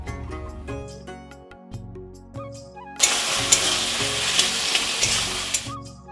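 Taro greens with a fish head sizzle in a pan as salt and turmeric are stirred in, a loud broadband frying hiss bursting in halfway through after quieter tonal background sounds.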